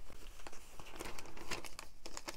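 Paper is crinkled and crumpled close up as it is pushed into a small pocket in a handmade junk journal, giving a quiet run of crackles and soft tearing rustles.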